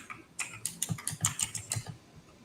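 Loud clacking on a computer keyboard, a quick burst of about a dozen close, sharp keystrokes, then quiet.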